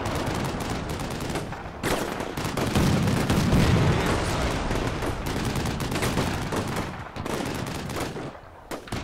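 M25 airburst rounds fire nonstop in the video game Black Sea, part of a dense, loud battle soundscape of overlapping gunfire and booms with no pauses.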